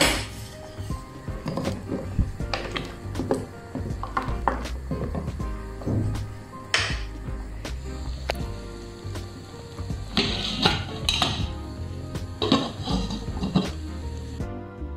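A spoon clinks and scrapes in a cooking pot as salt is stirred in, with a lid then clattering on during preparation of a Sri Lankan palmyra sprout thuvaiyal; irregular close metallic knocks and taps continue throughout.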